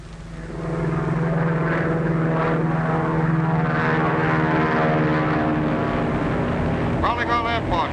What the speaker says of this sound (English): Say, that's the one that just flew over here.